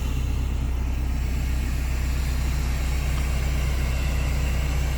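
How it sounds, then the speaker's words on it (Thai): A Caterpillar CAT 320GX excavator's four-cylinder turbo diesel runs at a constant, even drone, a close, unbroken mechanical hum with no voices. "เครื่องยนต์ 4 สูบ เทอร์โบครับ"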